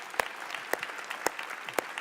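A church congregation applauds in scattered, thin clapping, with a few sharper claps standing out from a soft room murmur, heard faintly from a distance.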